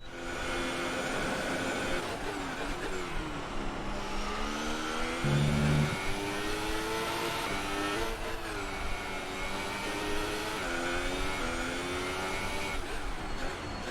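A race car engine in a racing game drones and revs through a flying lap, pitch rising and falling with gear changes across a sustained, moderately loud whine.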